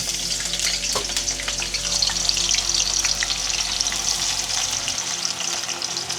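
Onion sizzles and fries steadily in oil heated for several minutes on high heat, a continuous close crackling hiss with faint stirring, no talking.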